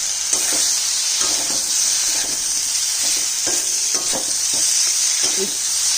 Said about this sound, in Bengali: বেগুন আর আলুটা দিয়ে দিচ্ছি এই যে অনেক তেল আছে